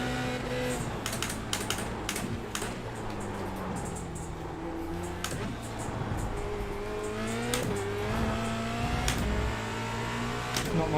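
Simulated Formula Renault race car engine in iRacing at Spa-Francorchamps, revving up and down through gear changes with steady engine drone and sharp upshifts, accompanied by rapid keyboard-like clicking.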